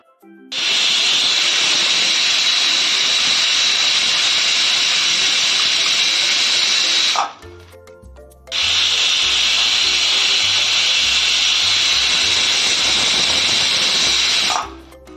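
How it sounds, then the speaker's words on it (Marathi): Two long, loud hissing whistles of a pressure cooker cooking egg biryani, each lasting several seconds, separated by a brief pause with clattering and low rumbling. "कुकरच्या इथं दोन शिट्ट्या झालेल्या आहे पाहिलं तुम्ही"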